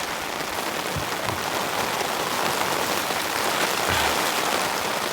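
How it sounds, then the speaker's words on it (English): Heavy rain hammers steadily on a tent at a camping spot, a dense, constant patter close by with a few louder drops striking the fabric, no voices. "But right now I'm getting hammered by the rain."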